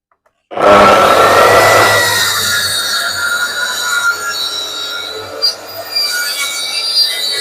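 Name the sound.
cutting wood with a circular saw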